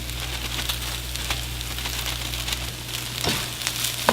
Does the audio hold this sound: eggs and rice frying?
yes